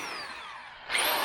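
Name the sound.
electric drill running on van power supply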